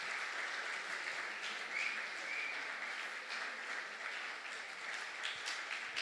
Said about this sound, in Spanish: Fuerte aplauso, hermanos, al Señor.